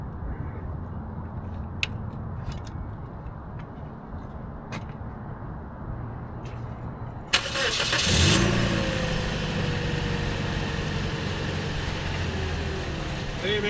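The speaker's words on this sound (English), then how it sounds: "I didn't even get there to start the car because the remote starts it by itself." A car engine starts on its own via a remote starter: a sharp catch at the crank, then a steady mid-pitched idle that continues at close range after a quieter stretch of low background rumble.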